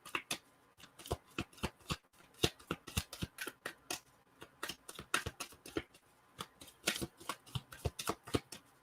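Moonology Oracle cards are shuffled by hand, a rapid run of crisp riffling snaps and slaps in uneven bursts, close and fairly quiet with no talking.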